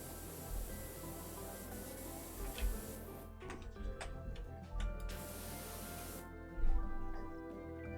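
A power washer with a pea shooter nozzle sprays in PowerWash Simulator, a steady hiss broken by abrupt stops and restarts, with soft background ticks and thumps.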